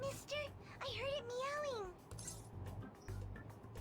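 A toy cat gives a drawn-out electronic meow, with voices talking quietly around it.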